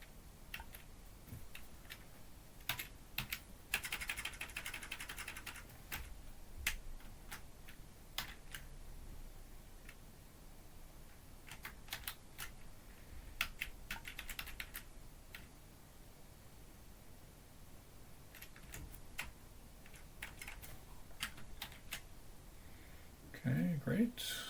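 Keyboard typing while editing a file in the vi editor on a Linux system, sparse bursts of key clicks spread through the clip over a steady low room background, with someone talking at times.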